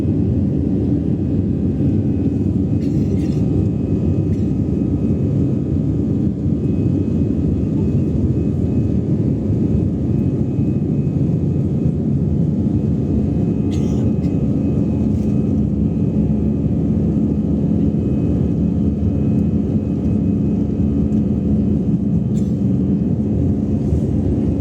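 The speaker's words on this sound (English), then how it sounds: "welcome aboard on this Ryanair flight to Aerolopa for destination Vienna" Steady loud airplane cabin roar on a Ryanair flight to Vienna, a constant low rumble and whoosh throughout with no talk.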